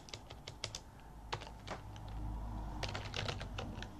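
Fast, irregular clatter of keys on a computer keyboard during a Linux terminal session, bursts of close, crisp taps with short pauses over a steady low hum.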